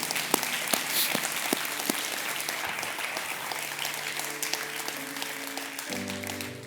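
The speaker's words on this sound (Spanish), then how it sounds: "Damos una ofrenda de palmas todos juntos." Sustained applause from a church congregation fills the space steadily throughout, a dense wash of many hands clapping, with faint organ or keyboard tones rising near the end.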